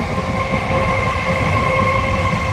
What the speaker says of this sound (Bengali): শব্দটা শুনতে পাচ্ছ চলে গেল ট্রেনটা